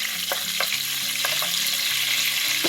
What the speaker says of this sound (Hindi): तेज पत्ता, दालचीनी के पीस और छोटी इलायची डाल के इसमें तड़का अपना यानी कि ग्रेवी की तैयारी कर रहे हैं।